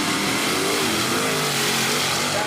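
A Mustang drag car at a Quick Street event roars at a loud, sustained rev, its engine note filling the whole stretch without any talking.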